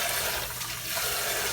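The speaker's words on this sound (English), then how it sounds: "this is just on the running tap water" Running warm tap water pouring over sea moss being rinsed, a continuous close hiss and splash that stays steady throughout with no voices.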